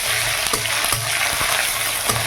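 Hot oil spatters and crackles steadily after ginger-garlic paste goes into onions frying for a Bengali fig (dumur) curry. The sizzle is close and loud throughout, broken by a few sharp pops, with nobody speaking.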